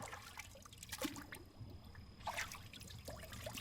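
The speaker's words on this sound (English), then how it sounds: "let's dip our gun in water and let's dip our mag in water" Water trickles and drips off a wet handgun and its magazine after both were dipped in water, with soft irregular splashes and dribbles close by over a steady outdoor background.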